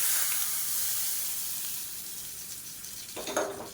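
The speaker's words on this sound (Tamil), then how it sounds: "தேங்காய் எண்ணெயில் கடுகு, உளுந்து, சீரகம், வரமிளகா, கருவேப்பிலை, பெருங்காயம் போட்டிருக்கேன். இது தாளித்து அப்படியே இதில் போட்டுடலாம்." Mustard seeds, urad dal, cumin, dried red chillies, curry leaves and asafoetida tempered in hot coconut oil give a bright, steady sizzle and hiss that fades a little, with a short crackling burst near the end and no talk.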